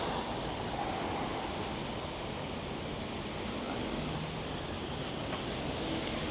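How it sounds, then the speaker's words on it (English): Steady broadband road traffic noise on a street in the resort town of Sopot, Poland, a continuous even wash of passing cars with a slight swell near the two-second mark, no talking. "And you have the traffic noise."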